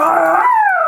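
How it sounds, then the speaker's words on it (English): A dog howling close by, one loud sustained howl whose pitch slides downward and trails off within a second, with no other sounds around it. "That's good howls."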